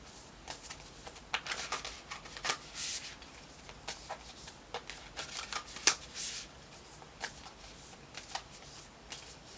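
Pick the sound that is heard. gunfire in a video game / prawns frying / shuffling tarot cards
shuffling tarot cards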